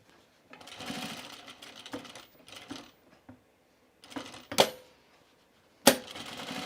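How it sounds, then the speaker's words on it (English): A sewing machine top stitching fabric for a pair of pants, running in several short bursts with pauses between, with occasional sharp clicks and clatters of the mechanism. "I'm gonna top stitch this"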